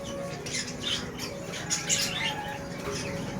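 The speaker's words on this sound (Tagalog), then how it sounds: "Busy yung mga ibon pagka may pechay." Aviary birds flutter and chirp close by while feeding on pechay, with soft wing flaps, coos and scattered squawks over a busy low background.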